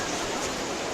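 A waterfall at Europa-Park roars as a dense, steady wash of rushing water, loud and continuous, with no distinct breaks.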